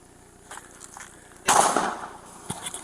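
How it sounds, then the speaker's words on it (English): A gunshot bursts out in a police shootout, one sharp crack with a brief ringing tail, preceded and followed by faint smaller pops, heard at moderate distance without speech. "You see him return fire towards Lowe's home."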